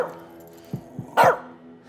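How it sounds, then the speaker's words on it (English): A dog in the video game As Dusk Falls gives a few short muffled woofs and then one louder bark, close by, over a quiet low hum. "You, keep that dog quiet."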